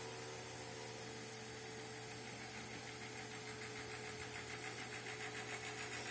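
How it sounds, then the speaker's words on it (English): A Cooler Bleeder pump runs on a 2019 Corvette C7 ZR1 while bleeding the dual charge air cooler system, producing a faint, steady mechanical hum with a fine rhythmic pulsing throughout. "So now here again, the pump is running again."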